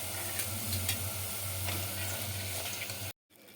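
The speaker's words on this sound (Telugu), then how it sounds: "ఒక 2-3 నిమిషాలు ఇలాగ ఫ్రై చేసుకుని ఇందులో మగ్గనివ్వాలి." Cluster beans and chana dal frying in a pan, a loud, steady sizzle with light stirring scrapes and a low hum underneath, close-up, cutting off abruptly near the end.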